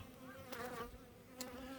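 Honeybees buzzing at the entrance of a beehive in an apiary, a soft continuous hum with a few louder passes close by, no talk.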